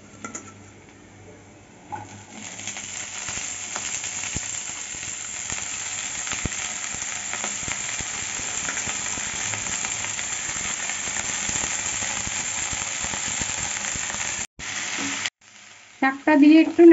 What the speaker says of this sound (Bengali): শাকটা দিয়ে একটু নাড়িয়ে চাড়িয়ে নিচ্ছি।